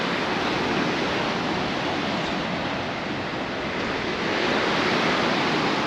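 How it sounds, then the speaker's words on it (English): Sea waves breaking on a beach at Bendinat in Mallorca on a breezy January day, a loud, steady wash of surf and wind hiss filling the whole span without pause. "There's a bit of a breeze here as well, and the waves, you can see they're right up now"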